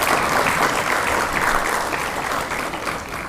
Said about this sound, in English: So a bigger round of applause for them